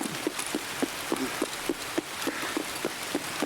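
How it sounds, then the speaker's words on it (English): Heavy rain drums steadily during a video game raid, a dense hiss with regular soft thuds, loud and continuous with no talk over it. "This rain is so loud."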